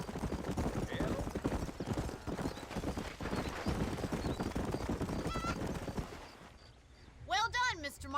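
Horse hooves clip-clop steadily for several seconds in the game Red Dead Redemption, then stop, and a horse whinnies loudly near the end.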